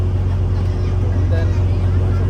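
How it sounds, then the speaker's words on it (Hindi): A ferry boat carrying motorbikes and passengers chugs across the water toward an island pier in Thailand, its engine a steady low rumble with faint crowd murmur in the background. "बोट आगे बढ़ चुकी है"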